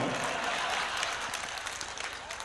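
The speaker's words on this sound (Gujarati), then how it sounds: "મિત્રો તાળીઓના ગગડાથી વધાવો" Dense, sustained applause from a live comedy-show audience fills the whole stretch, steady and loud with no pause.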